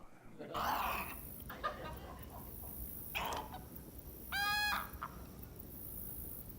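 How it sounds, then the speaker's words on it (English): A recording of a snowy egret played back at an Audubon society meeting: several hoarse, raspy croaks and one stuttering gargled call, faint and somewhat distant in a room with a steady hiss behind. "Anybody heard of snowy egret?"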